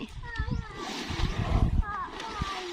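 Water splashing as a small child swims with her father, repeated close splashes mixed with a voice and an adult talking.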